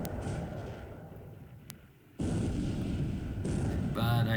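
Naval guns fire at maximum range in the War in the Pacific strategy game, giving dull distant booms over a steady low rumble that drops briefly, then returns louder and denser.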